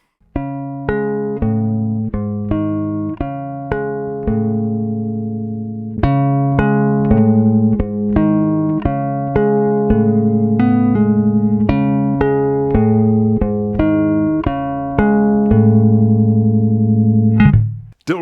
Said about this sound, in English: the compressor is a little more neutral sounding and has slightly more low end